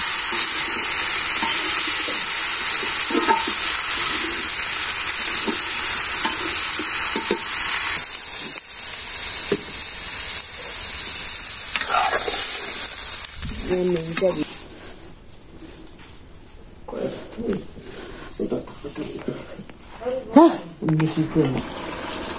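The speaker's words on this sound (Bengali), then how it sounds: "এখানে ফুলকপি, বেলকপি, আলু আর মরিচ দিয়ে ভালো করে কষিয়ে নিই।" Cauliflower, cabbage, potato and chili fry hard in a pan, a loud, steady hiss and sizzle with stirring. The sizzle fades midway, leaving quieter scraping, and a person talks throughout.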